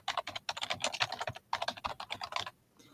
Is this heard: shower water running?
no